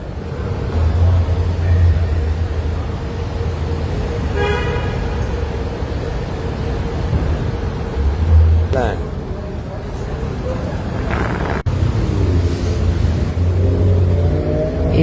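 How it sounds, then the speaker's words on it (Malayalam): Busy city street traffic with large taxis and cars, engines droning steadily and horns tooting in short bursts, with people talking over the road noise throughout. "ടാക്സിയൊക്കെ ഒരു വലിപ്പം കണ്ട അപാര വണ്ടികൾ"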